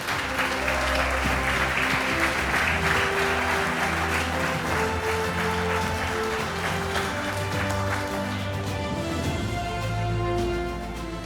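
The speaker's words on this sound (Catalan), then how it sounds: "un altre fort aplaudiment per a aquests guanyadors" Audience applause for award winners at a sports awards night, loud and sustained clapping throughout with music playing underneath and fading near the end.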